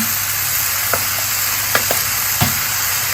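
Jackfruit sizzling loudly in a pan with sticky teriyaki and barbecue sauce, a dense steady frying hiss broken by a few scraping stirs, close up, with no talking.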